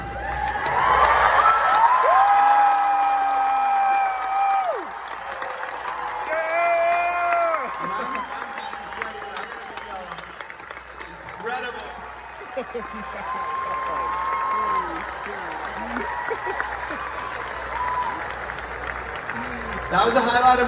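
Audience at a concert in San Diego applauding and cheering, with sustained crowd noise, whoops and shouts layered under loud talk from the stage throughout.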